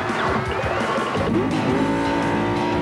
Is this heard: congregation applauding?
no